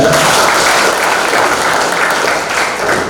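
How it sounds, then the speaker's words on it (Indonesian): An audience at a leadership seminar gives steady applause, a thick continuous patter of many hands clapping at even loudness throughout. "Tepuk tangan untuk Anda."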